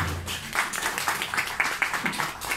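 An audience at a Punjabi gathering applauds as a political leader comes on stage: a scattered patter of hand claps rising and falling for a couple of seconds, fairly near and moderately loud.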